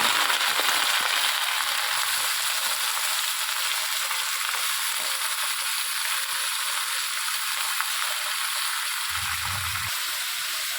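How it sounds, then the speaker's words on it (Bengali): Chopped onions fry in hot oil with a loud, steady hiss that runs evenly through the whole stretch, with a brief low thump near the end and no voices. "এই পর্যায়ে আমি আগে থেকে কুচিয়ে রাখা পেঁয়াজের টুকরোগুলো তেলের মধ্যে আমি অ্যাড করব"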